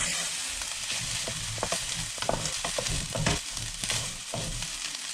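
A spoon stirs garlic and mushroom rice in a pan over low heat, giving a steady soft sizzle with scraping and shuffling of the grains, close and continuous, with no voices.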